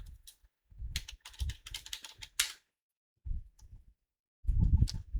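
Someone types on a computer keyboard while setting up storage in a cloud console: irregular bursts of quick key clicks separated by pauses, close and fairly soft, then another flurry near the end.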